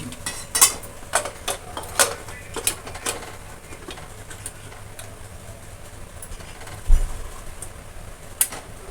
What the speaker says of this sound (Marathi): आता झाकण बंद करते, टाइम लावते